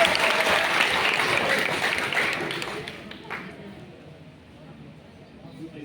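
An audience applauds after a school drama on population control, with loud, dense clapping that fades away after a few seconds into quiet room noise.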